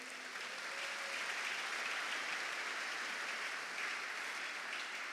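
A church congregation at Sunday service applauds the Lord, steady dense clapping that fills the room at a fairly faint level, with no break and no talk over it.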